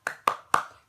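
A teacher leads a classroom spirit clap, heard as three sharp, close hand claps at an even, quick rhythm, each one ringing briefly before the next. No one speaks.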